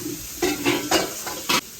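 Garlic sizzling in a hot pan while a spatula stirs it, with several short bursts of scraping and crackling over a steady frying hiss, close and moderately loud.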